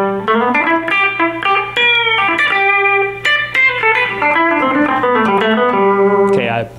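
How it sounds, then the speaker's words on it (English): A rock guitar plays quick major pentatonic licks in a Southern rock vein, bright plucked notes in fast melodic runs with some bends, close and prominent with no voices over them. "you'll hear a lot of major pentatonic licks"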